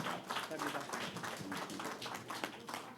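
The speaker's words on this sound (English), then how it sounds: "Clap your hands and say, help is available." A church congregation at a town hall gathering claps hands together, a dense steady patter of many hands mixed with voices throughout, moderately loud and continuous.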